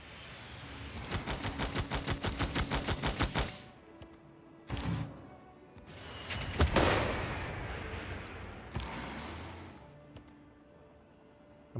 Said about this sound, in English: let's go ahead and bomb Melbourne